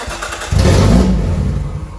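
A Nissan R33 Skyline cranks and fires up with its exhaust removed, then settles into a loud, raw, rumbling engine note close by.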